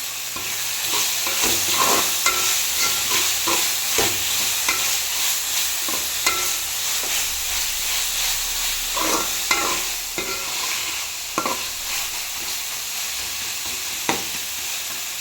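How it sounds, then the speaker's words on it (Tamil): Tomatoes sauté in a pan with ginger and onion for a prawn biryani, giving a loud continuous sizzle with frequent stirring scrapes and taps of a spoon against the pan throughout. "தக்காளியை போட்டு வதக்கிக்கலாம்"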